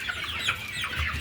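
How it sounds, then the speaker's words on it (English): Chickens on a farm cluck softly and continuously while being herded toward a crate, a short burst of overlapping faint clucks. "here I am trying to herd chickens"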